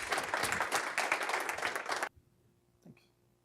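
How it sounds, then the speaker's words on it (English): Audience at an industry day awards ceremony gives a speaker a round of applause, a dense steady clapping that cuts off abruptly partway through, leaving near silence with a brief small sound. "please give Chris Capelli a warm round of applause."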